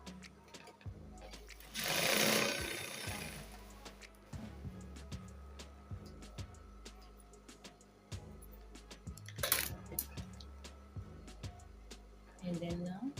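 A sewing machine stitches the elastic flare sleeve of a dress in repeated short bursts with pauses between them, close and fairly loud, with two louder rustling handling noises along the way.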